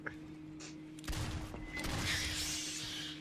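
Gunfire in the Aliens: Fireteam Elite video game, a dense fusillade of rapid shots building after a quiet start and continuing steadily over a droning game backdrop.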